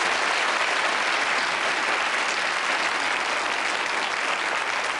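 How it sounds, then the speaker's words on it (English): A studio audience on a game show applauding, dense steady clapping held at a constant level for several seconds with no break and no voices over it. "A round of applause."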